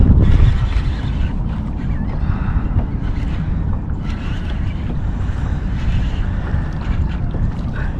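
Strong wind buffeting the microphone on a boat out on the San Jacinto River, a continuous rumbling roar with gusty swells, loud and close throughout.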